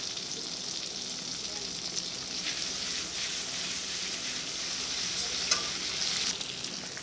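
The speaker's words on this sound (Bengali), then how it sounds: "এখন দিব আদা বাটা" Ginger paste goes into a hot pan for a vegetarian paneer curry and is stirred, giving a steady, even sizzle with faint stirring scrapes and one brief clink, close and without talk.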